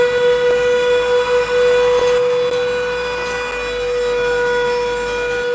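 A Coby UV dual-power handheld vacuum cleaner whirs steadily with a high, sustained tonal whine and faint buzzing vibration, running close by without any talking.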